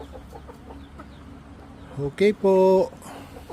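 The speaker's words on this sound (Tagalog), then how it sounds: "Madami po kaming chicken." Chickens cluck in a farmyard, short bursts of clucking rising near the end over quiet background and a voice.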